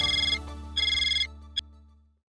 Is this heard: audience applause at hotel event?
no